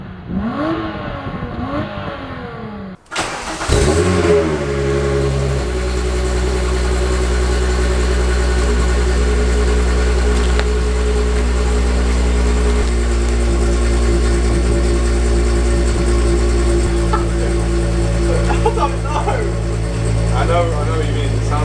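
A VW Corrado with a VR6 engine, catalytic converter removed and no exhaust fitted, starts and settles into a loud, raw idle with occasional blips of revving, while people talk over it.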